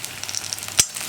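Sliced onions sizzling in an oiled pan, a bright crackling fry close by, broken by one sharp scrape or clatter of a spoon stirring near the end.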